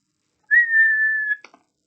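A single human whistle imitates a referee's whistle during a Quidditch match: one clear sustained note lasting under a second, followed by a couple of short faint clicks, alone in silence.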